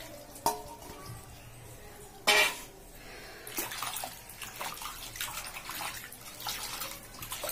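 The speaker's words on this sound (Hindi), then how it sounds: "ये अच्छे से धो लेना है इसको पानी में, अच्छा ज्यादा पानी में धोना है इसको।" Ambade bhaji (gongura) leaves being swished and washed in a bowl of water for an Andhra-style recipe, with irregular sloshing and splashing, a couple of sharp knocks, and a steady close wet rustle through the rest.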